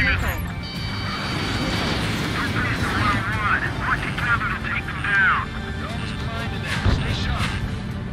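An aircraft crashes in the combat flight game Ace Combat 7: a steady jet roar runs under radio voices and game effects, then a sudden impact crunch lands near the end.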